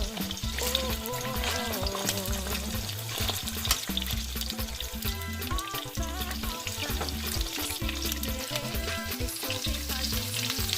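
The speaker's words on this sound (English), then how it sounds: "So let's start frying our chicken." Chicken pieces fry in hot oil in a deep pot, a loud, continuous sizzling crackle with stirring clatter throughout and no talk.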